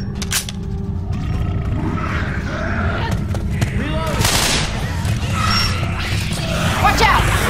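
Gunfire from Left 4 Dead 2 crackles in quick bursts with sharp bangs, mixed with growls and game noise, while players talk over it.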